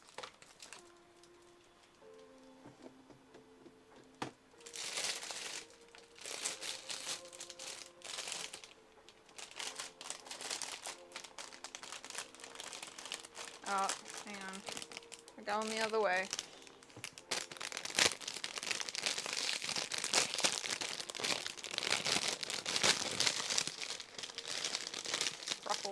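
Plastic packaging crinkles and rustles loudly and almost without a break as it is handled and cut open with scissors during resin dice and candle making, with a voice speaking briefly over it.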